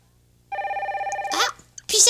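A telephone bell rings in a steady, rapid trill for about a second, close and clear, followed by brief voice sounds.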